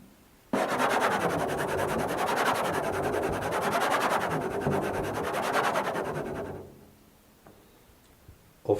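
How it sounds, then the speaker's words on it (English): A right-hand fingernail scrapes along a guitar string in a glissando, giving a steady, grainy rasp that lasts about six seconds and then fades out, followed by a faint tick. "The other scraping technique that is used in the first movement involves the nail of the right finger."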